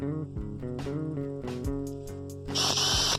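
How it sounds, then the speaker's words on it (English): A power drill bores through a PVC post and a steel fence post for a greenhouse hoop house build, a steady whirring motor with shifting pitch and bumps, then a harsher grinding burst as the bit bites near the end. "Drilled a hole"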